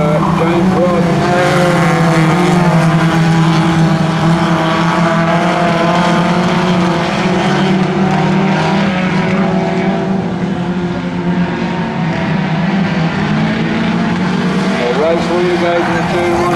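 Race cars roar around the dirt oval at Gilgandra Speedway in a feature race, a loud continuous engine drone that rises and falls as the cars pass, with a commentator talking over the PA throughout.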